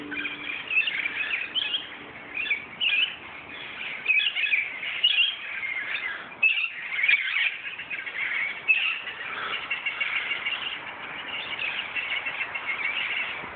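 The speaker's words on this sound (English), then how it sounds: "Besides having parrots stop by when they're migrating." Southern California parrots call with repeated high, chattering chirps and squawks, steady and overlapping across the whole stretch at moderate distance, with no voices.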